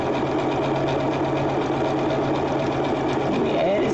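Steady, close whirring of a sewing machine running continuously while stitching an embroidered rope bowl, after a fresh needle, new top thread and added stabilizer.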